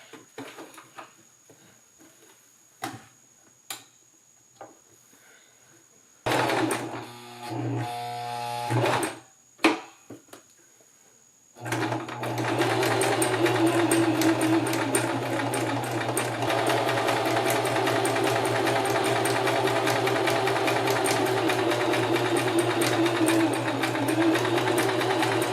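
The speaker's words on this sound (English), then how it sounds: "We're going to sew this zigzag right next to the seam you just sewed on the edge of your fabric" A sewing machine runs a wide zigzag stitch beside a seam along a fabric edge for a skirt, starting after a few clicks and short bursts, then humming steadily and loudly with rapid needle chatter.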